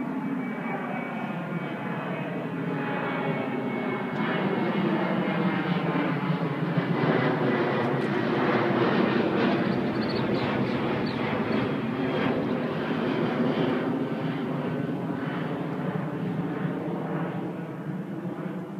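An American Airlines Boeing 737-800 jet at JFK airport roars steadily for nearly twenty seconds, a loud broadband engine rush with a faint whining tone, sustained and fairly close without talk.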